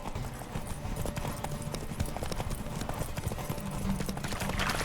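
Geralt's horse Roach gallops in The Witcher 3, a rapid steady clip-clop of hooves over continuous game ambience, with a brief voice in the mix.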